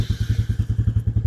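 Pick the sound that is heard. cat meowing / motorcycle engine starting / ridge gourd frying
motorcycle engine starting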